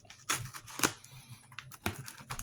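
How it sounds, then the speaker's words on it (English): A sharp knife cuts carefully along the seam of a cardboard box during an unboxing, giving a few short, quiet scratchy strokes close by with pauses between them. "Can't find right on the seam where I want to go, and I don't want to cut too deep."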